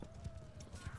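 Horse hooves in Bannerlord clip-clop steadily in a game siege of a castle, a soft rhythmic patter of a few beats under a constant background hum.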